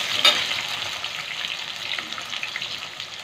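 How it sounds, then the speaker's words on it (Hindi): Diced potatoes fry in a pan for a quick home vegetable dish, giving a steady close sizzle and crackle with a brief clink at the start and no talk. "हमारे आलू देखिए अच्छे तरह भुन गए हैं, अभी ये फ्राई हो गए हैं"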